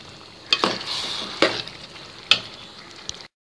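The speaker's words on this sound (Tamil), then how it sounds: "நல்லா கிண்டி எடுத்துக்கோங்க" Chicken liver and gizzard frying in a pan with a steady sizzle, broken by three sharp scraping stirs of a spoon against the pan, close and alone with no talk.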